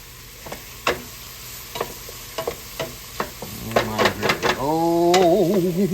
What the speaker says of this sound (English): Nothing like olive oil and onions cooking, y'all.